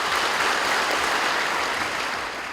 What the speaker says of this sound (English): Round of applause for Kokopo Secondary team.